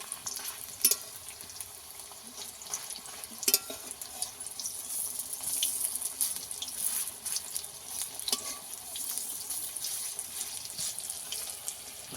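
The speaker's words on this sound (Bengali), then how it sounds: "কত সহজেই ফুলের বড়া ভাজা হয়ে যাচ্ছে" Soft, crackling sizzle of flower fritters frying in oil, a quiet steady hiss with occasional small pops.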